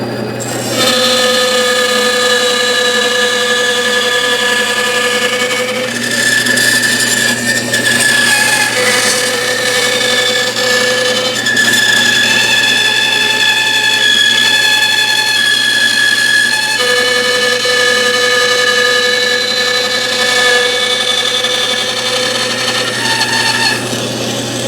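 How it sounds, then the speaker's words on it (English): An old Sears power saw from the 1970s cutting wood for carving a bust, a loud sustained whining buzz with steady pitch, dipping briefly a few times as the blade works through the wood, no talking. "And my trusty saw I've been using since the 70s, Sears saw."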